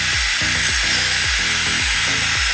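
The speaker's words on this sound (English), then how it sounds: "the 3/16 drill bit is having a little bit of trouble getting through the frame" A power drill with a 3/16 bit whines and bogs down repeatedly, its pitch dropping in short cycles as it grinds into a steel frame, close and loud.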